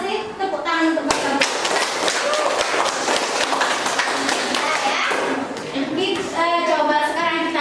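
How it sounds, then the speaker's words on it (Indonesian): Classroom students clapping for classmates who answered questions, a burst of uneven close hand claps and taps mixed with children's voices and chatter throughout. "Kita kasih tepuk tangan untuk mereka"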